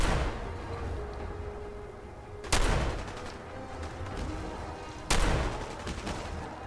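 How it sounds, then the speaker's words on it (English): Turret gunfire in Fallout 4, two sharp heavy blasts a few seconds apart, each trailing off into a rumbling echo over a steady background din. "those guns are taking it down"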